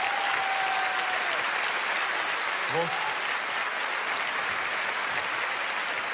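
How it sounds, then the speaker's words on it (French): Sustained audience applause fills a comedy festival venue in Liège as a spectator comes up on stage; dense, steady clapping throughout with a brief voice speaking over it. "Montez sur scène sous un tonnerre d'applaudissements"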